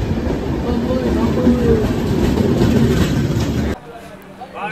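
Pawan Express train rumbling past close by with continuous clattering wagon noise, steady and loud, cutting off abruptly near the end into quieter station background.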